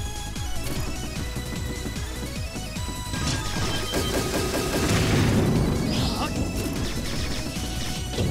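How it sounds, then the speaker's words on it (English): Explosions and gunfire boom and crash in Azure Striker Gunvolt during a boss rush, with dense rapid bursts and blasts swelling midway over steady game music, and someone talking faintly underneath. "I'm too cool to look at the explosions"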